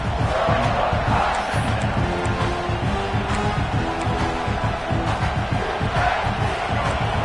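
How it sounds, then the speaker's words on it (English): A large stadium crowd at a Clemson American football game roars continuously, a dense wall of cheering and shouting voices that swells and holds, loud and distant-sounding with no clear single speaker. "Listen to the crowd energy here in the early going."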